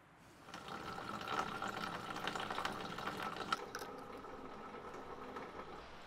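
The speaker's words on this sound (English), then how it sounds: "I've got the radiator currently draining out the antifreeze that's in there in the system" Antifreeze drains steadily out of a car radiator, a continuous splashing liquid rush that holds at an even level from start to finish, with no voices.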